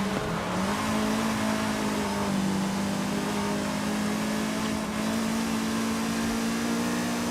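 Front-engined Mazda MX-5 racing in Forza Horizon 5, its engine held at a steady high drone that climbs slightly as it accelerates, loud and continuous with no talk over it.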